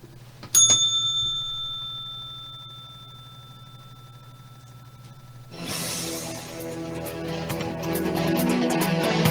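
A single bright bell strike rings out loud and close, its clear tone lingering and fading for several seconds before a broad rushing noise swells up.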